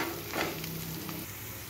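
Green chillies frying in a pan while being stirred, giving a steady close sizzle with soft scraping movements over a short stretch, no talking.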